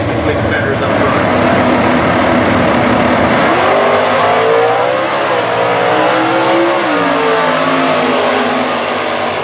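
A 1970 Pontiac Firebird with a Pontiac 400 engine roars loudly at a Stock Eliminator drag race, accelerating hard with rising engine tones as a commentator talks over it.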